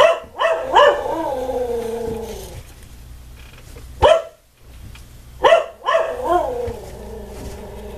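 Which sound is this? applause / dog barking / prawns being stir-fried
dog barking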